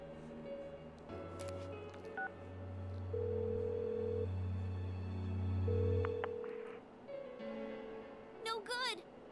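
A phone call placed in the game Persona 4 Golden: a series of steady electronic tones and ringing beeps repeating with short gaps, ending in a brief chirpy burst, with no voices.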